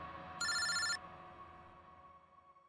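A telephone bell rings loudly in one short burst, then a second ring begins just as the clip ends, with a faint hum in between.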